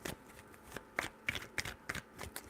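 A deck of tarot cards is shuffled in several quick riffling bursts, each a crisp papery flutter, close and clear with no talking.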